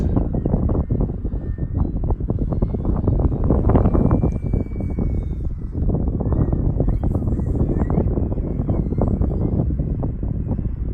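A large FMS radio-controlled model plane with a 1400mm wingspan holds a hover in the wind, its motor droning steadily near the microphone under heavy wind buffeting with no clear pauses.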